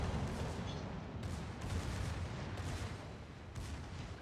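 Dense, continuous naval gunfire from ten 76 mm secondary guns in World of Warships on the Agincourt, rapid overlapping booms on a roughly 2.7-second reload cycle, loud and sustained with no pauses.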